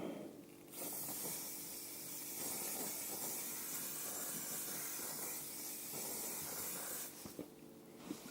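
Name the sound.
spray can spraying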